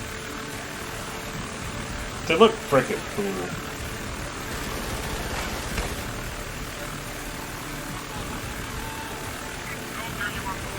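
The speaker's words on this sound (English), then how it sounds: "The drones are a little easier to fly than most things." A remote drone flies in the war game Frontlines: Fuel of War, a constant whirring propeller drone humming throughout beneath game noise, with someone talking over it and a few brief knocks.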